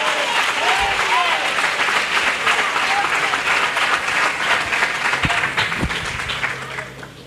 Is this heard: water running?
no